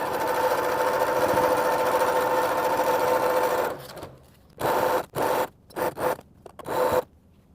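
Close and loud, a sewing machine runs steadily while adding a border strip to a quilt, then breaks into five short stop-start bursts of stitching separated by brief silences.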